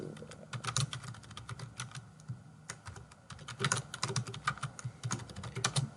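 Rapid, irregular key clicks from a computer keyboard being typed on at close range, with bursts of keystrokes and short pauses between them, no voices.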